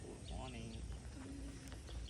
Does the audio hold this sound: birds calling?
yes